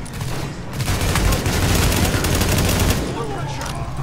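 Sustained automatic gunfire from The Division, loud and close, with rapid shots running almost continuously for about three seconds before easing off.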